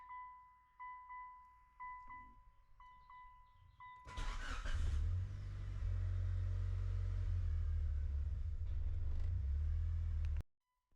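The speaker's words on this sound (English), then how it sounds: "So I'm going to start the car up and we're going to see what it does." A Mitsubishi Lancer Evolution VIII with a rough idle fault is started after a few dashboard chimes; the engine cranks, catches loudly and settles into a rumbling, uneven idle up close before cutting off abruptly.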